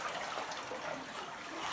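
Water trickling and dribbling inside a damp cave, a steady soft wash of splashing with no talking.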